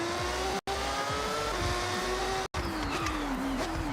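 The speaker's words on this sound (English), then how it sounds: "In reality, I'm just gonna get some wheel spin and just burn time." A race car in a racing video game spins its wheels, the engine droning steadily at high revs with rising and falling pitch and tire squeal, loud and continuous, briefly cut out twice.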